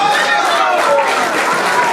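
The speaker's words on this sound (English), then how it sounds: "Crowd showing their appreciation here." An indie women's wrestling crowd applauds and cheers in a steady, dense wash of clapping and voices lasting a couple of seconds.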